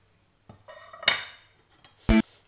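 Spoon clinking against a bowl while chicken is mixed with marinade ingredients, a few scattered scrapes and knocks ending in one sharp, louder clink, with no talking.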